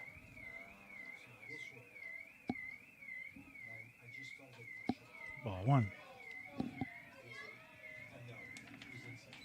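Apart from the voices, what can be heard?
car alarm going off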